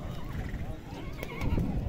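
A horse whinnies with a wavering, rising-and-falling cry at the busy Bishkek horse market. It sounds close and fairly loud over crowd murmur and background market noise, with a stronger burst near the end.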